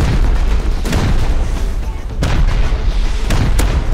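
Rocket blasts and gunfire during a raid on a base in the survival game Rust, several booming impacts over dense, loud continuous combat noise, with occasional player voices.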